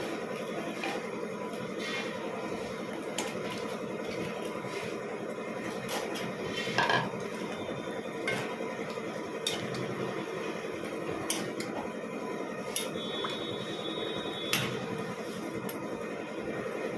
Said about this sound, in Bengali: এবারে আমি এই শিরার মধ্যে বড়াগুলো দিয়ে দিচ্ছি